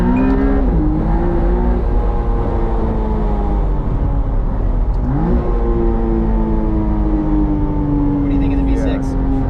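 A McLaren Artura supercar engine hums and rises steadily as it drives on a plain road, with gear-change dips, a constant loud drone throughout.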